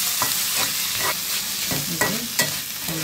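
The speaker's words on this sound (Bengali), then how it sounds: "ধুয়ে রাখা শুটকিগুলো দিয়ে দিব, দিয়ে আমি একটু ভালো করে ভেজে নেব।" Washed dried fish fries in hot oil in a pan, a constant sizzle broken by several scraping stirs of a spoon, close and fairly loud.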